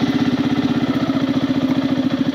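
A Yamaha FZS V4 motorcycle engine idles steadily up close, a continuous rapid low thumping pulse with no talking over it.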